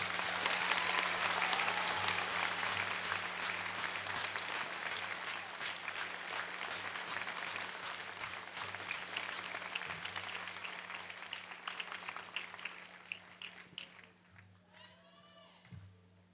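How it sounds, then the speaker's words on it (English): A large crowd applauds steadily for many seconds at a college commencement ceremony, the clapping gradually thinning out and fading toward the end, where a voice briefly speaks. "Please join me in applauding them for helping you succeed."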